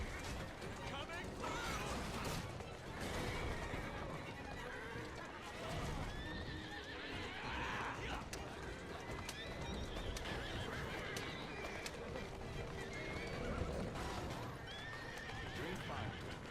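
Horse-drawn carriages rattle through the streets in Assassin's Creed Syndicate, with steady clip-clopping hooves and repeated whinnies running throughout under ongoing voices.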